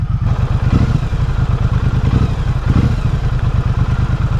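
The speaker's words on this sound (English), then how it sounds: "It's got some nice pops and bangs from that exhaust." Triumph Bonneville Speedmaster motorcycle with a steady, throaty exhaust rumble and faint crackling pops, heard close and continuous without talk.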